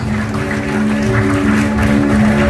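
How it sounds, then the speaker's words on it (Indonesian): A crowd at an indoor gathering applauds, a loud, steady wash of clapping over sustained background music. "Tepuk tangan yang sangat meriah untuk Mas Salman Al Farisi"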